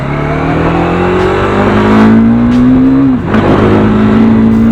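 A loud, close Bajaj Dominar 400 motorcycle engine revs steadily while riding, its pitch climbing gradually, then dips briefly during a gear change before pulling strongly again.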